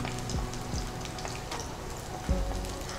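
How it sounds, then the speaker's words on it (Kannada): Garlic frying in a hot pan gives a steady, close sizzle throughout, with a few light scrapes and stirring taps over it. "ಬೆಳ್ಳುಳ್ಳಿ ಹಾಕಿ ಫ್ರೈ ಮಾಡಬೇಕಲ್ಲ?"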